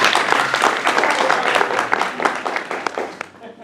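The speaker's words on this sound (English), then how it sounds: "There's your applause." An audience claps in a steady burst of applause that slowly thins out and tapers off near the end.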